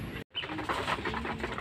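A tired racing pigeon coos softly in its loft after a derby lap, a short low throaty burble following a brief gap, close by with no one talking.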